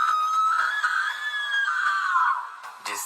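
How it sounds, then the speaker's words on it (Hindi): A woman's long, high-pitched scream in a horror story, sustained and loud for nearly three seconds before breaking off, with no talk over it. "ये सब देखकर प्रिया जोर से चिल्लाती है"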